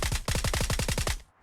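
A rapid burst of about a dozen muffled, suppressed rifle shots in a video game, in quick even rhythm, then a brief pause at the end.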